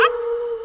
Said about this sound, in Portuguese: até que eles ouvem um uivo